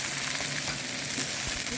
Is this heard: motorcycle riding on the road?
no